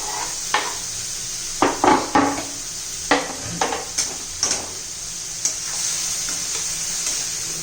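A cluster bean curry is stirred in a pan over a low sizzle, with a series of distinct scraping and clinking strokes of a utensil against the pan, close and moderately loud.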